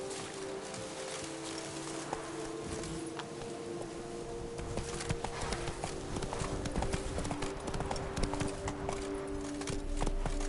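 Hooves of Roach, the horse in The Witcher 3, clip-clop at a steady gallop over a sustained low musical drone, growing a little busier and louder midway.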